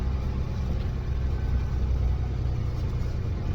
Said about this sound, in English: We're rolling through this parking lot at about